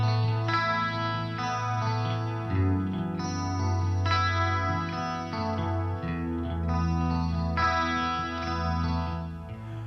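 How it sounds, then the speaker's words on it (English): Clean guitar chords ring out with a shimmering chorus, echoing delays bouncing side to side, and a spacious hall reverb tail. "A breezy ballad program with dynamic panning delay, subtle chorus, and a rich hall reverb."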